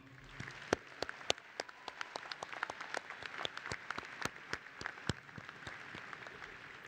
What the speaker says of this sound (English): join me in giving them a round of applause for all they've done for you